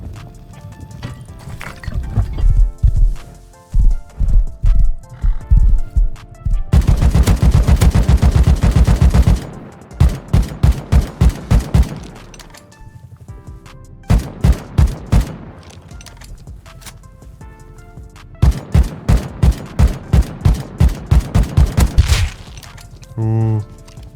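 Gunfire in the survival video game Rust, including AK rifle shots, comes in rapid bursts and sustained automatic strings, loud and close, separated by brief pauses and quieter clatter.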